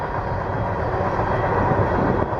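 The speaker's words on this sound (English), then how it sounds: "And yet another train goes by," A train of empty rail cars rolls past nearby with a steady, loud, continuous rumble and roar, no voices over it.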